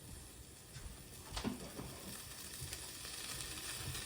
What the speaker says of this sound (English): Let that John heat up. Let it sizzle up.